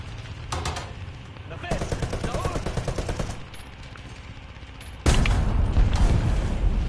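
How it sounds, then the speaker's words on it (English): A big gun fires in War Thunder, with rapid machine-gun bursts and heavy booming shots in separate loud volleys, the last one closest and strongest, and a faint voice underneath. "oh, that's a big gun."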